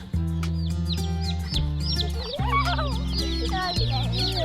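Newly hatched chicks peep continuously after a bath, a close, busy chorus of high chirps over a steady low hum, with no talk.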